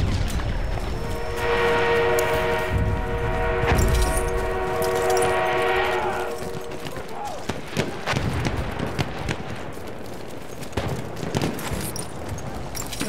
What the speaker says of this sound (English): An enemy armored train is on route.